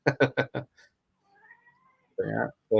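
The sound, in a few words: cat meowing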